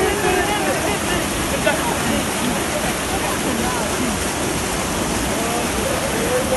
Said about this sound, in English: you actually get the small river, water falling from the rocks